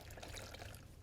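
A washcloth is dunked into a basin of water during a partial bed bath, giving a soft, continuous pouring and sloshing trickle that stays steady and close for about a second.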